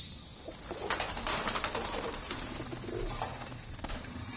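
Pigeons coo in the video game Ad Infinitum, soft repeated calls scattered through a hushed, hissy ambience with faint thuds and no talking.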